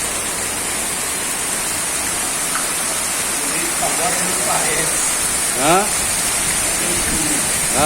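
Floodwater rushes in a steady broadband wash during a city flood in Volta Redonda, loud and constant throughout, with someone talking faintly over it.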